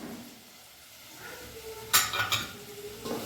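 Onions being stirred and sautéed in a pan for masala dosa in a village-style kitchen: soft utensil scraping and clinks against the pan over a low sizzle, with sharper stirring knocks near the end.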